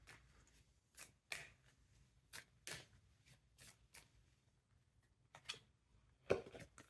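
Tarot cards are shuffled and drawn in quiet, irregular flicks and snaps, each a short crisp slap with gaps between, ending on one sharper card snap.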